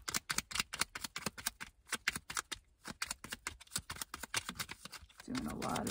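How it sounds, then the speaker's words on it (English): Tarot cards being shuffled by hand, quick riffled bursts of crisp card clicks in an irregular rapid rhythm, close and fairly quiet, ending in a soft rushing flutter. "Doing a lot of shuffling for this one."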